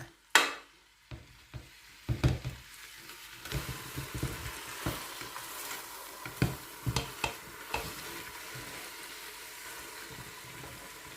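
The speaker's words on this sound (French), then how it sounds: "Et maintenant, on va mélanger avec la cuillère." A spoon stirs food in a pot while cooking seffa medfouna, giving repeated soft scraping knocks in an uneven rhythm against a faint sizzle. It is close and fairly quiet, with no speech.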